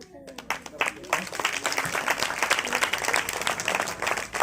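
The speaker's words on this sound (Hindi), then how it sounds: "ताली बजाओ, ताली बजाएंगे।" An audience at a church Sunday fellowship and farewell gathering claps together in dense, lively applause after a short pause, with voices mixed in among the crowd.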